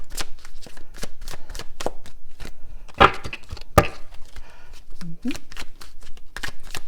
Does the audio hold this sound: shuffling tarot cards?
yes